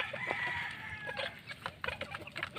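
Pet chicks peck at their feed, giving a busy stream of high, thin peeps and soft clucks close by, with scattered pecking ticks underneath.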